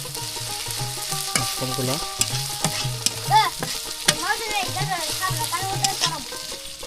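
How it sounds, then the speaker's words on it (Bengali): Onions and chilies fry in a pan with a continuous close sizzle and stirring scrapes, while someone talks over it almost throughout. "তো আমরা সুন্দরভাবে কিন্তু মশমতো করে ভেজে নিতেছি পেঁয়াজ মরিচ"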